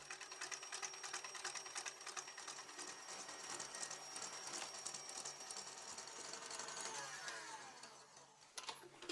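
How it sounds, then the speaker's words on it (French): An electric hand mixer whips cream into a soft chantilly, not too firm, for a tarte tropézienne, giving a steady, close whirring motor whine that runs without pause and cuts off near the end. "je vais monter cette crème en chantilly, mais pas trop ferme, juste une crème fouettée"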